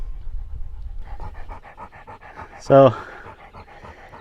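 A half Labrador, half Chesapeake dog pants rapidly and rhythmically close by on a hot day out in a Northern California pasture, with a short spoken word over it.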